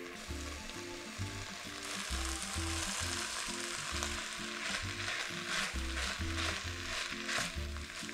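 Two peeled, diced medium potatoes frying in a soup pot for a beef shank vegetable soup, an even crackling sizzle with faint stirring, close but quiet, no talk.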